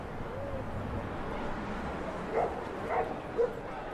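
Golden retrievers at an outdoor city celebration for International Golden Retriever Day, about 1,500 dogs gathered, giving a few short barks and yips over a steady crowd murmur.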